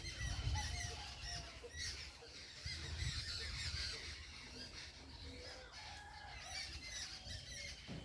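Birds squabble near a set of stairs, shrill squawks and squeals overlapping in a busy, continuous chorus that rises and falls over steady background noise.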